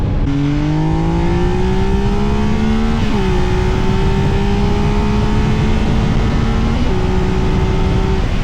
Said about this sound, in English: Inline 3-cylinder sounds best when you're thrashing it.